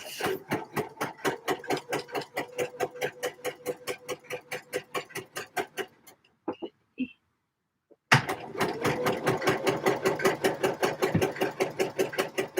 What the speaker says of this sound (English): I'm sewing a single layer of fabric